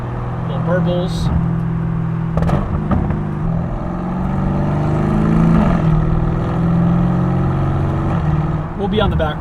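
A Lamborghini Urus S engine burbling on the road, a continuous low rumble with shifting tones and a few sharp crackling pops from the exhaust, heard from inside the car.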